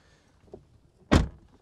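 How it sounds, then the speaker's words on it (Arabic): A Mercedes E250 facelift AMG car door shuts once with a solid, heavy thunk, close and loud, preceded by a faint click; no talking. "قفله الباب برضو مؤثره"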